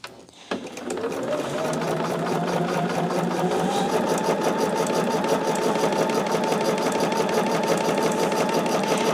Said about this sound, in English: right now I am sewing half square triangles for this Charmed I'm Sure quilt pattern